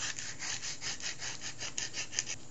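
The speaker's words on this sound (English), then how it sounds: "I'm also going to use some 40 grit to further rough up the surface." 40-grit sandpaper roughs up the surface of a small flush-cut saw. The rasping strokes come in a quick, steady back-and-forth rhythm, close and fairly quiet, with no voices.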